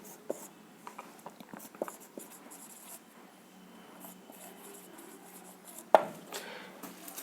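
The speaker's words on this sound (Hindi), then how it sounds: "एक सेंटेंस लिखता हूं मैं" Pen or pencil writing a sentence by hand on paper, heard as soft irregular scratches and taps at close range, with a sharper knock near the end and no talking.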